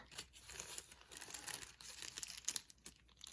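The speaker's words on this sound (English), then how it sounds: "Yes, this is an empty plastic bag." Crinkling of an empty plastic bag, steady crisp rustles and crackles close up, with a few sharper crunches, no voices.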